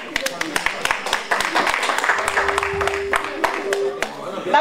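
An audience claps together in celebration of the UNG party at a party gathering, with a sustained, moderately loud patter of hands, a steady electronic tone in the background and a voice briefly audible over it.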